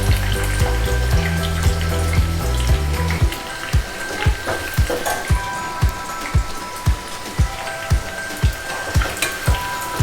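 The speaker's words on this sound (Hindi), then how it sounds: "और अब हम इन्हें गोल्डन कलर का होने तक अच्छे से फ्राई कर लेंगे मीडियम" French fries deep-frying in hot oil over a medium flame, a steady bubbling sizzle with a regular pattern of soft pops and stirring knocks, following a short stretch of background music.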